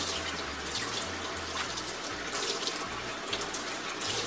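Fairly hot water runs steadily from a tap to wash a hair sponge, a continuous close splashing stream with no talking.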